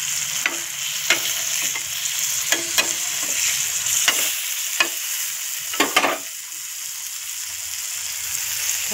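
Pomfret fish frying on a hot tawa, a steady loud sizzle with repeated sharp crackles and scraping taps of a spatula spread across the whole stretch, no voices.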